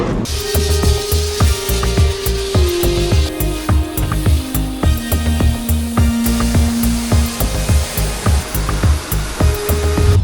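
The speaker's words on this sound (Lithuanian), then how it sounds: "Tai prieš grąžinant automobilį atvažiavom dar jį nuplauti" Water spray hissing steadily against a Lamborghini Huracán during a wash, a loud continuous jet with a low rhythmic pump thumping beneath it, no talk.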